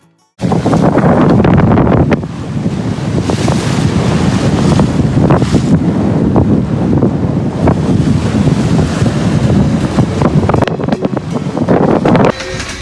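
Strong wind roars and waves crash around a sailboat at sea in the Cyclades, Greece, during a Force 6 blow, loud buffeting gusts hitting the microphone continuously after a brief quiet start.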